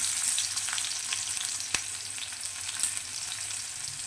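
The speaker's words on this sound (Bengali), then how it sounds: "সর্ষেটা চটপট করছে, এবার তুলে দিলাম কাঁচা লঙ্কার কুচি, আর এই হচ্ছে পেঁয়াজ কুচি" Chopped green chili and onion frying in hot oil with spluttering mustard seeds, a close, continuous sizzle with occasional sharp pops.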